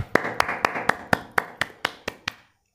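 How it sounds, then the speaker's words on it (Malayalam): One person claps hands about ten times in a steady, evenly spaced rhythm, each sharp clap close and clear, with no one speaking. "ഞാൻ ഒരു കൈയടി തരികയാണ് മച്ചാനെ"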